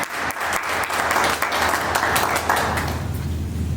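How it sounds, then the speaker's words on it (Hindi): Applause from an audience at a Rotary Club women's day debate competition in Solan: steady, fairly loud clapping from many hands that fills the room throughout without pause. "एक बार जोरदार ताली।"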